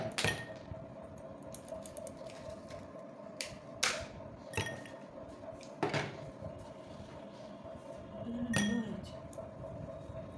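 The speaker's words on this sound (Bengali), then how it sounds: "এখানে বরফ দিয়ে দিলাম।" Ice cubes dropped into a glass for lassi give several sharp, separate clinks spread across a low background hum, moderately close and fairly quiet.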